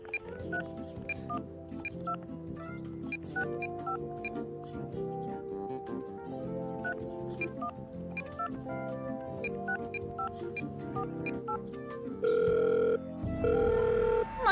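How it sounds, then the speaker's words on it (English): Cartoon telephone from a Shopkins episode at the Shopville Games: a steady electronic ring tone sounds twice near the end, a long, loud buzzing burst, playing over busy background music. "the long distance phone call"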